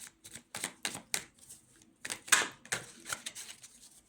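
Cards shuffled for a career and money tarot reading, a run of quick, crisp riffling bursts close to the mic with short pauses between, no talking.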